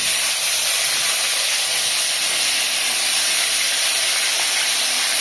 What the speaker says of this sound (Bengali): এবার এটা ভাজা হবে